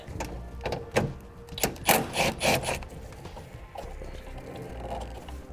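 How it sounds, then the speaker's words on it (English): A nut is worked loose from a stud on a 2013 Ford Fiesta during a wiring install, with a few sharp metallic ratcheting clicks and scraping tool handling up close, then quieter rubbing. "Now we'll remove that nut."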